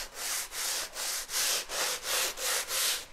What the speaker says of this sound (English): I take a 80 grit piece of sandpaper